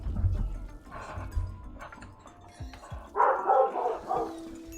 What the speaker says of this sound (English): the dogs are going off because there's somebody working outside